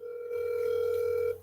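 The ringing tone of an outgoing telephone call: one steady tone of just over a second, clear and fairly close over a low background hum, with no talking.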